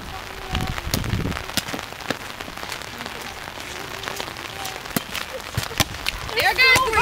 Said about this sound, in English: For some reason there's still rain coming through.